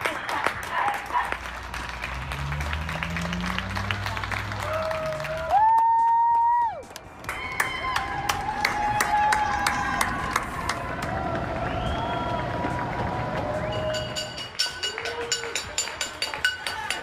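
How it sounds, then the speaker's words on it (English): New Yorkers on their balconies applaud medical and care workers, with scattered clapping, cheers, whistles and whoops echoing between buildings, and a few horn-like tones rising over the crowd. "getting out on their balconies and applauding medical and care workers. We'll leave you with the sound of New Yorkers' gratitude."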